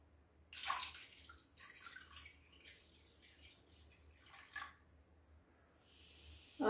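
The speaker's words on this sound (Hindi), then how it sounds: "इसमें पानी डालेंगे।" Water is poured into a cooking pot for a raw-banana recipe, a splashing pour starting sharply, then trickling and settling, with a second brief splash later; faint and close, no voices.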